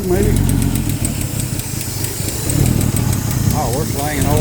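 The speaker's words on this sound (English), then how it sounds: "It's idling now, but I'm not sure. It's like it's surging." A 1976 Ford F-150 engine idles loudly and close, the rough rumble rising and falling in surges, with a voice talking over it briefly near the end.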